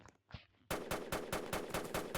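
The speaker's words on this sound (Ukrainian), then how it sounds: "Макар, я зараз буду стріляти вверх, шукай." Rapid bursts of video game automatic gunfire crack out in a steady rhythm after a brief quiet start, loud and close with sharp repeated shots.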